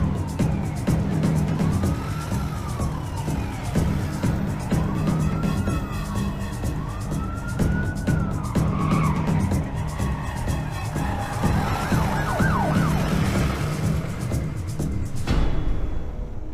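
A wailing ambulance siren sweeps up and down repeatedly in a movie scene, fairly faint and moderately distant, layered over steady traffic and engine noise, followed by quick yelping siren bursts near the end.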